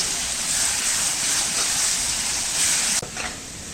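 Chopped onions with a little salt sizzle loudly in a hot pan, a steady dense frying hiss with a brief break near the end, close up and with no voices.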